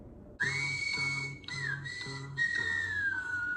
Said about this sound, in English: Kicking off the song with that whistling introduction